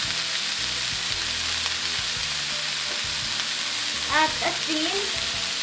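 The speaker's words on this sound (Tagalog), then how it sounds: "Patuloy itong pagulungin sa mantika." Celery stalks and broccoli stir-fry in hot oil with a constant close sizzle, a steady rhythmic scraping of a utensil, and a brief clatter near the end.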